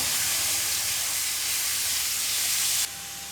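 Garlic ginger paste hits a hot pan and fries with a loud, dense, steamy hiss that holds steady and then drops slightly near the end.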